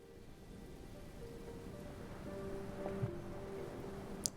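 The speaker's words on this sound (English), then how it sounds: "Rain. Rain. Go away." Rain in the video game Book of Hours, a soft, steady patter of rain falling on a surface, faint and continuous, with a few brief drips and a short sharp tick near the end.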